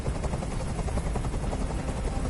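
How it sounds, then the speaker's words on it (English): A helicopter hovers in the video game Detroit: Become Human, its dense rotor chop throbbing loud and continuous with no speech over it. "Tell that helicopter to get out of here."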